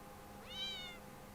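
A single clear cat meow in a spooky mobile game, a short rising and falling cry lasting about half a second over a faint background hiss.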